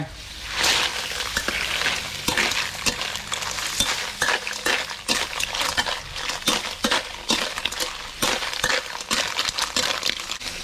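Shellfish added to a sizzling frying pan for a Thai stir-fried dish, giving a steady busy sizzle and crackle with scattered clinks of utensils against the pan throughout.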